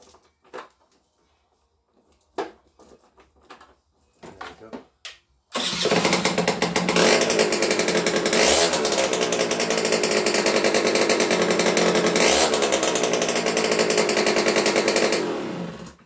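A Honda Vision scooter engine cranks and fires, then runs loud and steady at close range with a buzzing, rattly idle after a few quiet handling sounds at the start.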